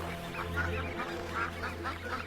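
Repeated nasal quacking calls from a duck, several bursts in a row, fairly close over a low steady background hum.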